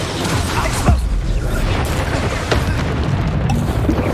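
Incendio fire spell blasts in the video game Hogwarts Legacy, loud booming bursts with crackling flame, one strong burst near the start and another midway over a dense, continuous roar of game effects.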